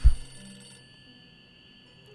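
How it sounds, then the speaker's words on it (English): A telephone in the Nancy Drew: Ghost Dogs of Moon Lake game rings in a single burst that fades, leaving a quiet electronic hum, with no talking. "Where's this phone that's ringing?"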